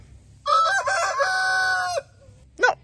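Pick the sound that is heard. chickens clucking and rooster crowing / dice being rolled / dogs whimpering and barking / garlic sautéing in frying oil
chickens clucking and rooster crowing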